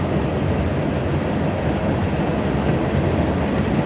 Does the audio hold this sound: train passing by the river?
yes